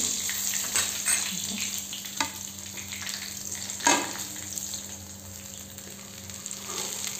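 Masala fish shallow-frying in a small amount of hot oil, a steady close sizzle and hiss running throughout with a few brief louder spatters, no talking.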